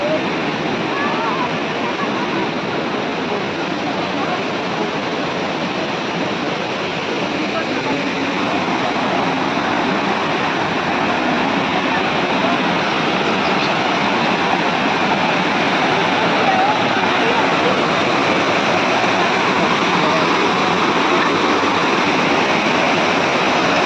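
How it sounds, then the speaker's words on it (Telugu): Forest waterfall pouring steadily at a holy hermitage site near Guwahati, a dense, unbroken broadband rush of falling water that stays loud and even throughout, close by, with no clear voices over it. "ఇది వాటర్ ఫాల్, అడవిలోంచి జరి"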